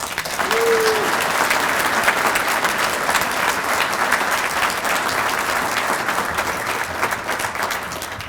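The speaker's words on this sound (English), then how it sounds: "One more round of applause for our partner." Sustained applause from a large audience at a science and technology summit, dense and steady throughout with no breaks, loud and close.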